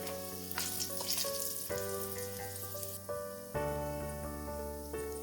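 Cinnamon sticks, bay leaves and crushed cardamom sizzle in hot mustard oil for a Nepali goat meat fry, a close, steady crackling hiss that continues without pause.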